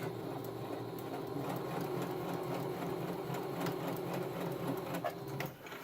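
A sewing machine stitching fabric for a homemade face mask, a steady close whirring run of rapid needle strokes that slows and stops near the end, over faint room noise.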